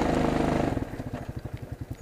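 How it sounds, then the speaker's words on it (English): A four-wheeler ATV engine while riding, a close rough idle-like putter that opens with a heavy buzzing rumble, then drops into a rapid, uneven chugging beat. "I still really love to get on a four-wheeler and ride."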